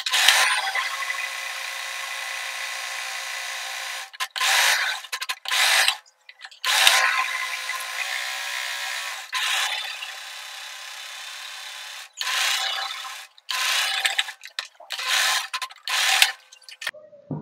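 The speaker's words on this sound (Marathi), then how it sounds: "इथे मी बेल्ट शिवून घेणार आहे" An electric sewing machine stitches a fabric belt for a short kurti top in loud close bursts of rapid whirring, starting and stopping several times with short silent gaps between runs.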